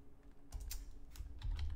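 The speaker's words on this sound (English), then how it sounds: "So if I type in here" Typing on a computer keyboard, a short quick burst of several soft clicky keystrokes close by and fairly quiet, with no voices.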